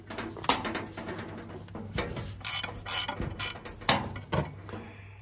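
Wrenches ratchet and clank against bolts on a Gleaner R72 combine, giving quiet, scattered metallic clicks and sharp taps of uneven rhythm over a low background hum.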